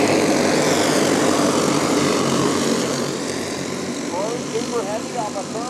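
Race cars roar off after the green flag at the American Dream Challenge, a loud, dense engine drone that eases slightly as the pack pulls away, with a voice talking over it.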